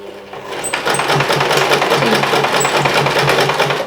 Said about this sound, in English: So you're sewing over the main panel fabric and the strap is kind of hanging off to the edge. Start sewing.